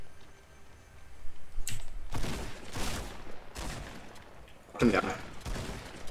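Gunfire in Fortnite Battle Royale, several bursts of shots spaced across the moment, fairly loud, with a player briefly speaking over the action.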